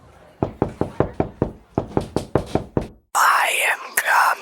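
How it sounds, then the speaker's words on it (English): A loud, close run of about a dozen evenly spaced knocks on a door at a New Year's Eve party, followed by a whispered, eerie voice. "Someone's at the door."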